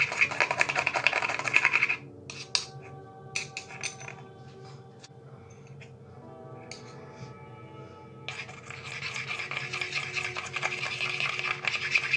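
Melt and pour soap colourant is stirred in a container, with close, scraping and rubbing strokes in bursts and light clinks of the utensil, loud at the start and end with a quieter middle.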